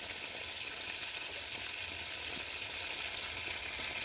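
Steady, close sizzling of food frying in a wok, a continuous hiss that holds level throughout with no talking.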